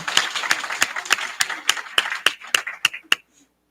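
About a dozen sharp, evenly spaced claps ring out at an LPN graduation ceremony, a slow deliberate rhythm that stops abruptly, leaving a brief quiet tail.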